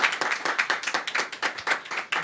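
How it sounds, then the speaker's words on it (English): A modest audience at a gathering about Congo gives another round of applause, a thin, fairly sparse clapping with individual hand strikes clearly audible in an uneven rhythm. "Let's give them another round of applause."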